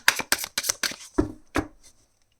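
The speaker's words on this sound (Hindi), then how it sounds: "let's see last shuffle" A tarot card deck being shuffled makes about six quick, crisp riffling bursts up close, then trails off into silence.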